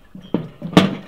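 Metal drum pan grill lid closing over fish roasting on the grill: a soft knock, a sharper thunk, then a louder clanking close, all close by with no talking.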